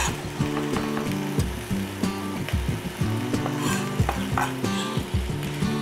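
Finely minced garlic goes into a hot pan for chipotle beef empanada filling and sizzles steadily and loudly, with stirring clatters and a low tonal hum running underneath throughout.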